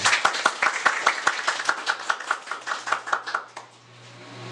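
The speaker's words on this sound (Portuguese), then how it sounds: "Aplausos." A small audience at a stage event of a trans visibility festival in Fortaleza claps in a brisk patter of distinct, close handclaps that thin out and fade after a few seconds into quiet room noise.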